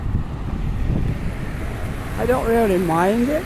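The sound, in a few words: wind blowing on microphone while walking outdoors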